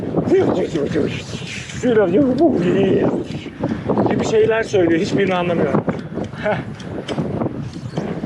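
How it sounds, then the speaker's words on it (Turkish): Strong gusty wind buffets the microphone beside Lake Burdur, a steady broadband roar that swells and eases while someone talks over it throughout. "Lan bu rüzgar aptal etti be"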